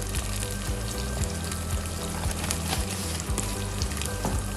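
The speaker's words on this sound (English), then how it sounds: "Now you can see how well the stew has fried." Stew frying in a pot after seasoning and salt, a steady close sizzle with scraping stir strokes recurring throughout, no voices.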